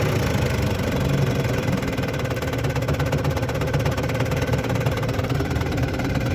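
A vintage Mercury outboard motor idles steadily and close, a continuous even rumble with a fine rapid pulse and no change in pace throughout.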